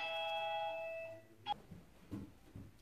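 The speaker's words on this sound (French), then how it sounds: "Vous avez entendu la sonnette de ma maison." A house doorbell rings with a clear sustained electronic chime that fades out, followed by faint scattered knocks and rustles in a quiet room.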